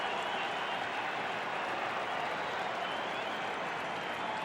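A sellout baseball crowd applauds at Miller Park during a Cubs versus Brewers game, a steady, dense wash of clapping and crowd noise that holds evenly from start to finish without breaks.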